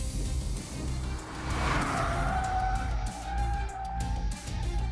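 A Maruti Suzuki Swift with a 1.2-litre three-cylinder engine and five-speed manual laps a race track, its engine note rising and sweeping past with a brief tyre squeal, heard at moderate distance.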